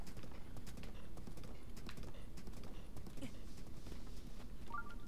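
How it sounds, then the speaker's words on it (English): Horse hooves clip-clop in the video game Zelda: Breath of the Wild, a quiet run of rhythmic clopping steps over a soft ambient bed, with faint game chimes near the end. "Okay, horse, stay over here."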